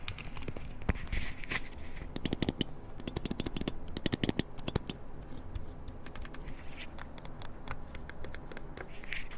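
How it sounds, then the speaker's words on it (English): Buttons on a Storm Breaker Max gaming mouse with Armor optical switches click repeatedly, crisp sharp taps arriving in quick bursts and single presses, close to the microphone, with no speech over them. "the most important test is the sound of the buttons"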